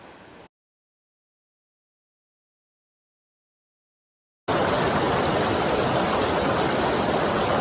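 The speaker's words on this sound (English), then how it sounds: "This is the North Fork Sauk River." Steady broadband rush of the North Fork Sauk River flowing along a mountain trail, loud and continuous for the last few seconds after a brief burst and a long silent gap.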